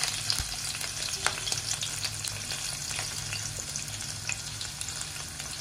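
Green chillies and crushed garlic dropped into about three and a half ladles of hot oil on a low flame, a dense close sizzle with scattered sharp pops and a stir or two, steady throughout with no talk.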